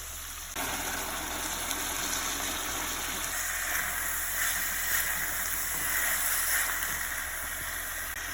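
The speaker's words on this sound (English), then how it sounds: "I'm going to pour into the pan slowly and deglaze the bottom." A steady gushing rush of boiled water poured into a pan to deglaze it starts abruptly and continues evenly, close by, with a faint hiss throughout.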